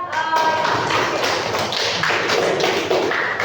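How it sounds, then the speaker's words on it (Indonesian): Classroom applause from students in a school lesson, a dense, continuous patter of clapping hands filling the room, loud and sustained throughout. "Berikan aplaus buat"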